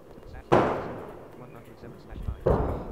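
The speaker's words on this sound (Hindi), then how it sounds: "अभी यहाँ पे पटाखा फोड़ना स्टार्ट हो चुका है आरसीबी के जीतने के आनंद में" Firecrackers bursting outdoors during a celebration after a cricket match win, two sharp loud bangs about two seconds apart, each trailing into a brief decaying rumble over a background murmur.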